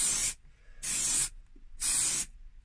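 Three short bursts of spray paint hiss as a car's centre fascia is sprayed stop-start from about six inches away, evenly spaced with quiet gaps between them.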